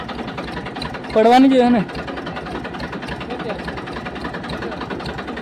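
A farm tractor engine idles with a steady, rhythmic low chugging that runs throughout, while a person speaks briefly near the start.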